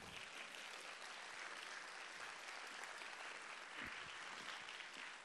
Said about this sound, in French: Encore un peu d'applaudissements pour l'accompagner.